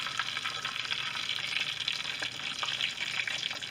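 Corn tortillas, rinsed under warm water, fry in heated oil with a dense, steady sizzle and crackle heard close up throughout, with no talking.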